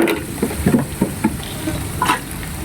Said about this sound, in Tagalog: Hayaan nating maluto para masarap at maluto yung ating onions.